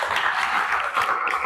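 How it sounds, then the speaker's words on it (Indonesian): A classroom of students clapping together for a classmate, a dense burst of many hands applauding steadily for about a second and a half. "Tepuk tangan buat Syainda"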